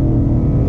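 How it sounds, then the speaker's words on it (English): A 2018 Ford Mustang GT V8 in track mode revs hard, a loud, close, sustained engine roar with a deep rumble that holds steady through the short burst, no voices over it. "I love how rev happy it is."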